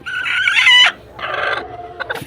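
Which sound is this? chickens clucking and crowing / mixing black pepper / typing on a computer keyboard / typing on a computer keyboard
chickens clucking and crowing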